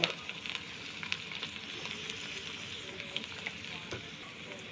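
Wide rice noodles for pad see ew stir-fry with oyster sauce in a hot pan, a continuous sizzle with light scraping stirs throughout, close and steady.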